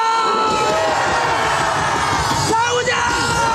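A large outdoor political rally crowd at Gwanghwamun Square in Seoul shouts slogans in unison, a loud sustained roar of many voices with amplified speech over it and a swell of chanting near the end.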